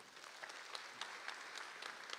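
Steady applause fills the hall at the closing ceremony of the Cheboksary International Film Festival, a dense patter of many hands clapping together, heard at a moderate distance and kept up evenly throughout.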